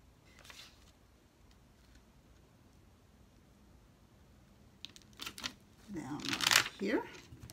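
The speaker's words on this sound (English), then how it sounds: "But first, I am going to cover it with some of this silver foil wallpaper." Silver foil wallpaper is wrapped around an acrylic tube for a DIY glitter charger tray, making a soft crinkling rustle that swells into loud, close crackling near the end after a quiet stretch.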